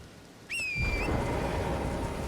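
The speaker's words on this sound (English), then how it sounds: "Bro, can it stop raining?" Steady rain pours throughout an Elden Ring game scene, a soft broadband hiss that grows louder after a brief rising synthetic whistle near the start, with no voices.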